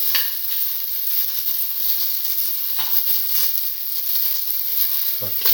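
Tomato pieces sautéing in a pan with red lentils and bottle gourd, a steady bright sizzle with occasional stirring scrapes and a thud near the end.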